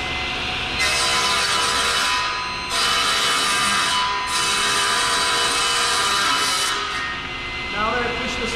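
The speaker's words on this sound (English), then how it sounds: "I want to push the material all the way through the blade, keeping it nice and tight to the fence." A table saw runs steadily while wood is pushed through the blade along the fence in a woodworking shop, the loud cutting whine rising and easing in several long passes, with a brief clattering at the end.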